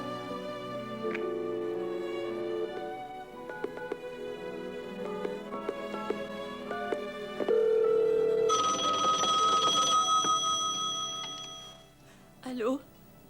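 A telephone rings in a science-fiction TV drama, a series of tonal electronic rings over a background tone, ending in a short louder burst.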